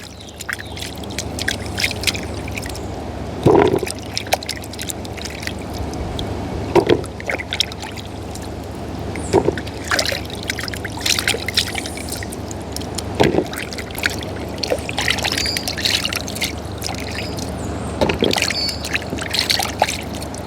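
Cut coconut pieces are washed with water outdoors in a bush cooking setting, giving continuous close splashing and sloshing with repeated sharper splashes and knocks every few seconds.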